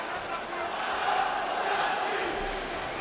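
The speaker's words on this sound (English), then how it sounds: "A chant for Kownacki by the crowd." Boxing arena crowd at Szpilka vs Kownacki chanting in unison for Kownacki, a broad, sustained roar of many distant voices filling the hall.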